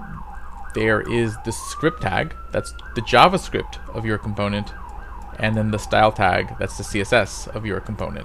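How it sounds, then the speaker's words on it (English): Emergency vehicle sirens in Brooklyn wail faintly in the background, one rising tone drawn out across the first seconds, while someone speaks steadily in the foreground throughout. "Apologize for any sirens in the background."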